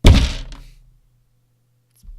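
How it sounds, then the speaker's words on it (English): A giant's heavy club strikes the ground in the Pathfinder: Kingmaker video game, one loud deep thud that decays over about a second, leaving a low hum before a faint second impact at the end. "you do hear that strong thud of what sounds like a large club hitting either some rocks or some ground or something"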